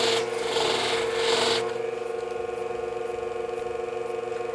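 Long groomer or barber shears being polished on a Scimech sharpener, a steady rasping rub for about a second and a half, then only the machine's even hum running on alone.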